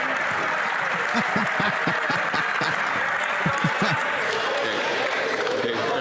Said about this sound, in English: they might not applaud so loudly